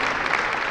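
An audience at an Ohio National Guard ceremony bursts into a brief, dense round of applause, many hands clapping together at close range with no talk.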